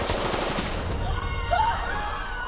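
Volleys of rapid gunfire from an ambush on a woman stepping out of her car, a dense crackling burst of shots that keeps a steady level, with a brief shrill cry rising over it midway.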